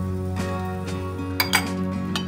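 Metal pan lid lifted off and handled over a pan of honey pancakes, a few sharp clinks and clatters over a steady kitchen hum.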